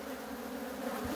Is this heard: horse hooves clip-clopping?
no